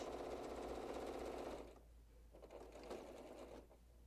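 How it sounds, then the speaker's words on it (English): A sewing machine stitches along the edge of a reversible placemat, running loud and steady for about a second and a half before dropping to a quieter, uneven whir with short pauses as it approaches a corner turn. "just prepping that corner turn before I really just start sewing right up to the edge"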